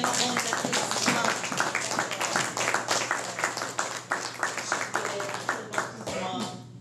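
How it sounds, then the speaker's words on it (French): A second round of applause at a poetry collection launch, dense rhythmic clapping that swells and then thins toward the end, with voices mixed underneath. "Deuxième ronde d'applaudissements."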